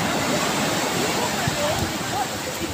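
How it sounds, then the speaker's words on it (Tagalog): Strong ocean waves surge and crash at a beach, forming a loud, continuous broadband roar with no breaks that fills the whole stretch. "Ang lakas ng alon, guys."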